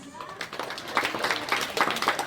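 Students clap at a school investiture ceremony as badges, sashes and flags are handed out, giving a continuous, fairly close patter of many hands that swells slightly toward the end.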